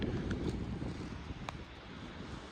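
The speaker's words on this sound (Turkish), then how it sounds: "10 numara bir rüzgar var." Steady wind rushing and buffeting across the microphone, a constant low roar with a few faint higher flickers, no voices.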